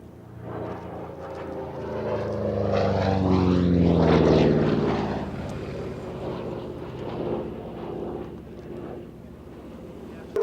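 A Republic P-47 Thunderbolt propeller warbird flies by at an airshow, its piston engine droning and rising to a loud pass with a pitch sweep, then fading away.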